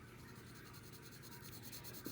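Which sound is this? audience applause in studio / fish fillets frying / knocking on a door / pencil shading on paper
pencil shading on paper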